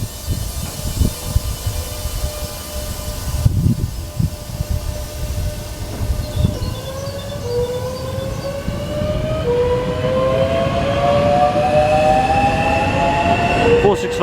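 A Class 465 electric train departs St John's station with a rumbling roll at first, then rising motor whines climbing in pitch as it accelerates and grows louder toward the end.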